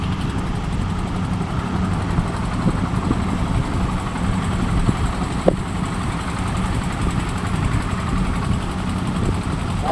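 A small, heavily loaded vehicle built by Mallik Engineering Works is driving, its engine giving a steady, close rumbling drone with a faint vibrating rattle, no breaks and no voices.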